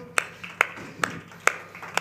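Five sharp, evenly spaced hand claps ring out at a steady beat in an indoor cycling class at the end of the session. The claps are moderately quiet against a low background hum.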